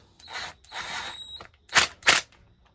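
A hand ratchet clicks in short bursts while tightening long bolts on new parts, with two louder sharp bursts of rapid clicking near the end and quiet pauses between.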